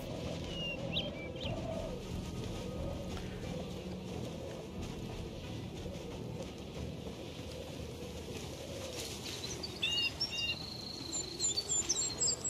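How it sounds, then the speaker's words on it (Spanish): Small birds chirp faintly in a forest, thin high tweets scattered over a steady low background hiss, with a brief cluster of calls near the end. "Aquí con el sonido de los pajaritos"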